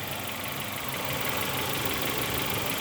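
A Nissan Almera with a QG15 engine idles steadily with low fuel pressure, a continuous close engine rumble with faint knocking and vibration and no voices.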